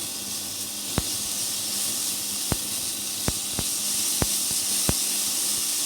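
Bacon renders its fat in a hot pan, giving off a steady, loud hiss and sizzle. A few sharp pops and crackles break through now and then.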